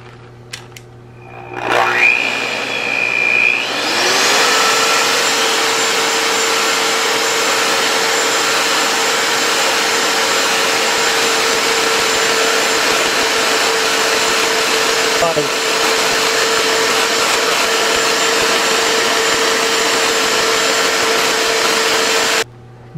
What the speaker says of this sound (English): Beat with electric mixture at high speed until the mixture reaches within 1 to 2 inches of the top of the bowl